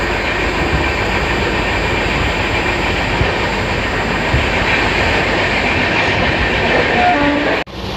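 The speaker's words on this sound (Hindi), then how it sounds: "हमारी ट्रेन पूरी घूमते जा रही है, वहाँ से पूरी ट्रेन घूमते जा रही है हमारी।" Andhra Pradesh Sampark Kranti Express train running on tracks between Hazrat Nizamuddin and Bhopal, heard from on board as a loud, steady rumble and roar of wheels and carriages throughout, with a sudden cut just before the end.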